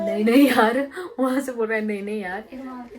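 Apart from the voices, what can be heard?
No everyday noises stand out.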